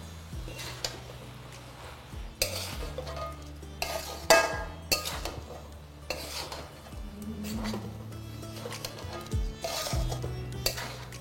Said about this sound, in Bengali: তারপর এটাকে এই সব কিছুর সাথে ভালো করে মিশিয়ে দিন।